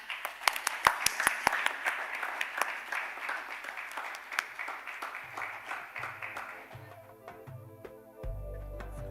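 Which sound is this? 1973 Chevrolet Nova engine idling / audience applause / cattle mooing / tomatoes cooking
audience applause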